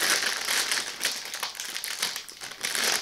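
Close, continuous crinkling of a plastic bag, irregular rustles and crackles as it is handled, with no voices.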